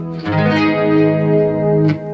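Strummed guitar chords shimmering through a chorus effect on a BOSS eBand JS-10, loud and sustained, with a second strum near the end.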